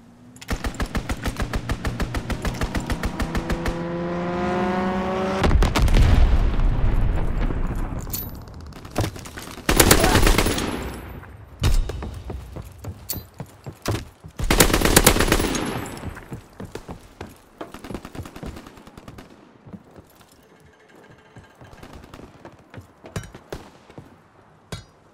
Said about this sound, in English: Get to cover! Enemy strafing run inbound!